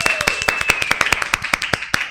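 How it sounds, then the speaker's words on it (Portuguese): Live applause in a podcast studio: quick, crisp hand claps in a fast, fairly even rhythm, close by and fairly loud, with a thin high tone running through part of it. "Ouvir essas palmas reais daqui, que não é fake, não é fake"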